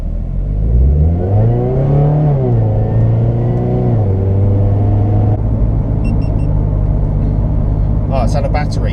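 A Toyota GT86 with juddering brakes pulls away, its engine rumbling and revving up then easing back to a steady drone as it drives, loud and close inside the car, with a brief clatter near the end.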